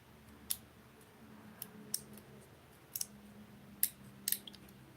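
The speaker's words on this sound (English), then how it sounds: "So then when you spin it, it'll click." A drag clicker on a baitcasting fishing reel line counter gives sharp, sparse clicks as the spool is spun, about half a dozen short ticks spread unevenly over several quiet seconds.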